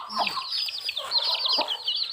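Domestic village chickens, young birds nearly three months old, cluck and chirp in a steady overlapping chorus at close range, with short higher calls scattered throughout and no speech.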